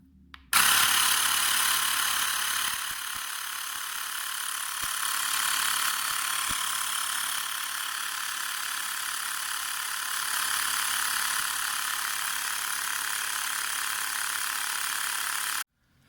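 A Xiaomi Mi portable electric pump inflates a tire with a steady, loud mechanical buzzing drone that starts abruptly, holds unchanged for about fifteen seconds, then cuts off.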